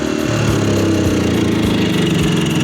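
EcoFlow smart generator engine running steadily at close range, a continuous mid-pitched hum with faint rhythmic pulsing and no break throughout.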